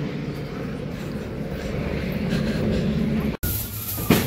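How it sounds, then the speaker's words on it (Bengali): Plane or helicopter passing over a village, heard as a steady, distant broadband roar that holds for several seconds at moderate level. "এই যে সামনে ভু ভু হয় যে ওই যে প্লেন না হেলিকপ্টার"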